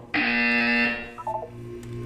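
Electronic buzzer from the Portal 2 video game: one loud, steady harmonic tone held for about a second, followed by a few short fading electronic blips, with no voices.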